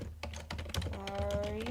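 Close, rapid keystrokes on a computer keyboard, a quick irregular patter of clicks with a faint tone rising underneath, no voices.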